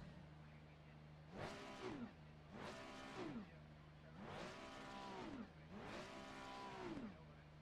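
A race car engine in the sim racing game Assetto Corsa Competizione revs up four times over a steady idle, each burst rising and falling in pitch, loud and close with no talk.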